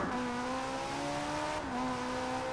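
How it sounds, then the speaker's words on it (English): A Toyota GT86 running a swapped-in Ferrari 458 engine in Forza Horizon holds a steady, droning engine note with layered harmonics, briefly dipping in pitch midway, loud and continuous throughout. "a 458 engine in the Toyota"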